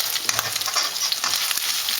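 Matza brei frying in a pan as it is gently flipped and broken up, a continuous sizzle broken by soft scraping and stirring taps, close and moderately loud, with no talking.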